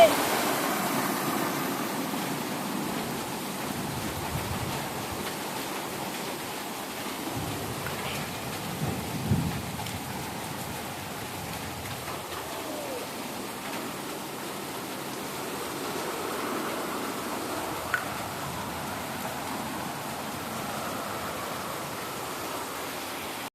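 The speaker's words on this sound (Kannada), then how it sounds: "ಆನೆಕಲ್ಲು ಬೀಳ್ತಾ ಇದೆ." A heavy hailstorm roars steadily, with dense falling rain and hail and low rumbling swells, a few sharp knocks of hailstones standing out.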